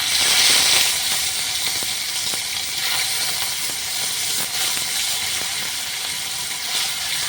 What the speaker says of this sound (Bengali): তেলটা গরম হয়ে গেছে এবার মাছগুলো ভেজে নিচ্ছে